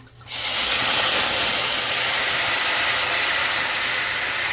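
Cabernet red wine reduction for smoked tenderloin hits a hot skillet with a sudden burst, then a loud, dense, continuous sizzle and hiss that holds steady, up close and alone.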